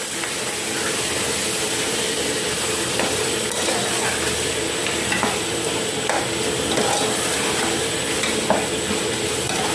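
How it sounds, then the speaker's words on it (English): Beef stew ingredients being stirred and mixed in a pot, a constant close sizzling hiss with soft scraping strokes repeating throughout and no talk. "And then I mix them all up together"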